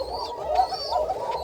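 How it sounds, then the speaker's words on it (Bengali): A white pigeon gives a close, continuous rolling coo with rhythmic pulsing swells, fairly loud and alone over a quiet background. "তো খালি আপনাদেরকে ডাক দেখালাম"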